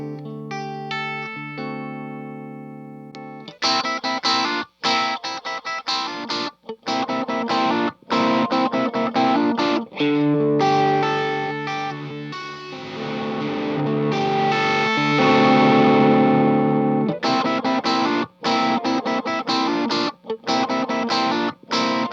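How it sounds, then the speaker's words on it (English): A looped guitar riff fed through an overdrive pedal, its gritty, sustained chords repeating in bursts while the tone sweeps and shifts through hollow, phasey colours, loudest near the middle. "loop a guitar riff and send it through this pedal and then sweep through all the different shades of destructive interference"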